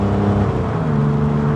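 A 1951 Chevrolet Bel Air restomod accelerates hard on the road, its engine giving a loud, close, droning roar with a shift in pitch partway through the short burst.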